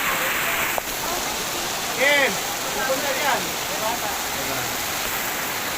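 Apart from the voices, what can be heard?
heavy rain pouring at a cemetery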